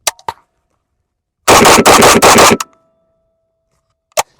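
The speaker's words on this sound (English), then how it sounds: "So let's see if I can just rip off a few rounds." An AK-74 rifle fires: a couple of sharp single cracks, then a fast burst of about six loud close shots in roughly a second, followed by silence and one more distant-sounding report.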